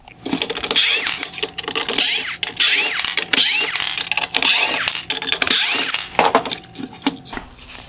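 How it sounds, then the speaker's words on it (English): T20 Torx screws backed out of a black plastic bracket on a 2018-2020 Range Rover Velar OEM LED headlight, rapid close ratchet clicking in bursts with small metallic clinks between. "I'm going to remove the T20 Torx screws holding on the front black plastic bracket"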